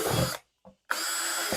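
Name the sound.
drilling drainage holes in plastic bucket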